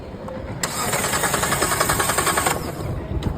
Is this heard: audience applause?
no